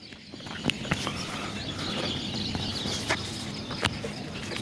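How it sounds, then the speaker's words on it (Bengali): Birds chirp and twitter in the morning around a rooftop chicken farm, giving scattered short calls at a moderate distance over a steady outdoor background hiss. "পাখিদের কিচিরমিচির আওয়াজ।"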